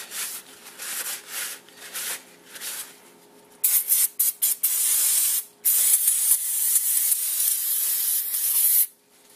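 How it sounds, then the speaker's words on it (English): Aerosol brake cleaner sprays onto a brake caliper in loud, close hissing bursts, a few short puffs followed by longer sustained blasts, with quieter rustling in between. "Give it a good spray."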